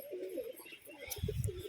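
A female pigeon coos softly: a few low, throaty murmurs rise near the end beneath someone talking close by, all fairly quiet.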